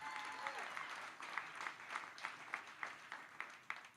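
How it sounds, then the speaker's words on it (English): Applause from an audience at a political rally for an Ohio governor nomination, heard as a faint, distant patter of claps rising and falling over a few seconds. "I'll take applause for that, thank you."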